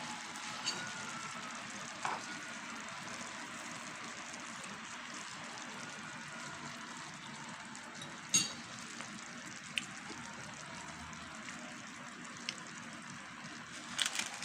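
Bitter gourd (ampalaya) cooked with egg is stirred in a frying pan, giving a steady, even sizzle with a few faint clicks and scrapes of the spatula.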